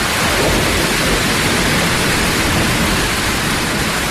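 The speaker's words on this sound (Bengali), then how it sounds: "তখন বৃষ্টি মুষলধারে পড়তে আরম্ভ করেছে" Dense, steady roar of heavy rain pouring down continuously, loud and close, with no voices.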